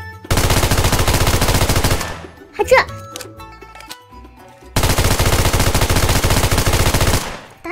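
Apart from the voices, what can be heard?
gunfire in video game Metro escape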